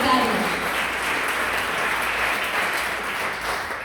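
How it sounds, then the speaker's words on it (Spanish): Church congregation clapping hands together in a steady, lively burst of applause filling the room, with some voices mixed in beneath the claps. "Démosle un aplauso al Señor, fuerte ese aplauso de mano para despertarnos"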